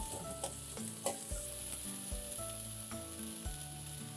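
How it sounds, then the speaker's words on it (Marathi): Finely chopped onion sautés in a pan, giving a soft, steady sizzle broken by repeated scraping stirs of a spatula, heard close with no talking. "कांदा 1 ते 2 मिनिटं परतून घ्या."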